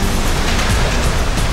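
Floodwater roars down the swollen Ashwini river after torrential rain in northern India, a loud, continuous broadband rush with no pauses.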